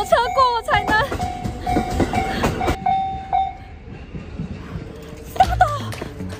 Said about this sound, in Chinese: 我的面寿命要没了，我要等火车过我才能